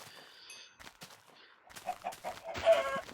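Chickens in the video game Minecraft cluck in a few short bursts, faint at first and then louder and closer toward the end, over otherwise quiet game ambience.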